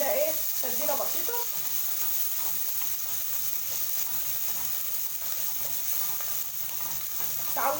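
Chopped onion sizzles steadily in hot oil, a bright continuous frying hiss with a few stirring scrapes near the start and end.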